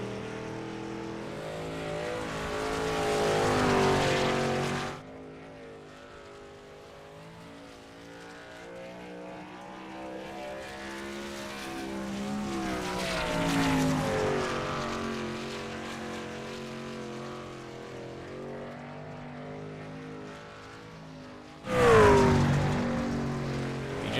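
Racing trucks run a qualifying session on the Bristol dirt track, engines droning and rising and falling as they pass, with a loud close burst near the end and no talk.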